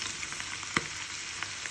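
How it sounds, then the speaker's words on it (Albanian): Rice and minced meat stirred and frying together in a pan, a steady close sizzle broken by a few scraping stirs from a utensil, with no talk. "duke i përzirë të gjitha bashkë, duke i lënë që të skuqen për 3-4 minuta të bashku"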